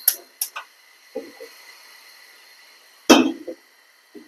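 Gas stove knobs clicking on in a home kitchen: a few sharp igniter ticks spaced out at the start, a quiet stretch, then a louder click with a brief burst as the flame catches.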